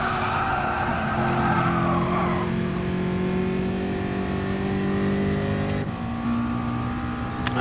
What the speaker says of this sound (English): you can hear again that throttle is still not right